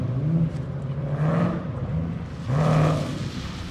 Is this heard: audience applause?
no